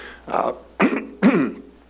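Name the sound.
coughing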